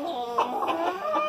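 A young Silkie hen clucks softly up close, a short run of low, throaty murmuring clucks with no voices.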